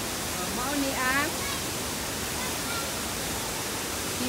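Dilubab Falls at Villa Cascada pours with a constant, dense rushing roar that fills the whole stretch, while a voice speaks briefly over it near the start.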